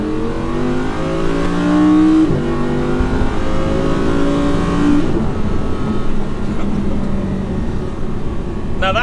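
An Audi R8 V10 RWD engine revs hard at about quarter throttle to maximum RPM, loud and close, dipping briefly before rising again and then falling away.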